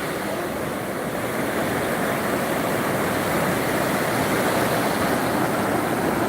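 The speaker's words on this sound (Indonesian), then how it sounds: "Nah, kayak inilah suasana pantai. Menikmati suasana pantai di sore hari." Afternoon beach ambience with waves at high tide, a dense, steady roar of surf filling the scene at close range, unbroken and with no voices.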